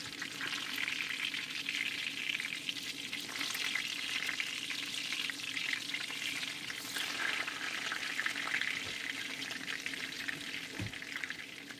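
Steady, close sizzling of eggplant frying in hot oil, a continuous crackle with occasional pops and no talking.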